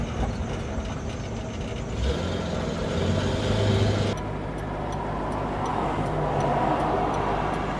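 A chopped 1950 Buick lead sled idles roughly with an uneven, misfiring engine note, loud and close, with traffic-like rumble and a shift in tone partway through.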